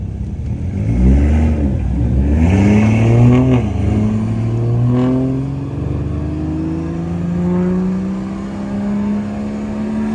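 Performance cars, BMW and Corvette models, accelerate hard side by side in a roll race from 40, engines rising steadily in pitch through the gears, loud and close with no talk.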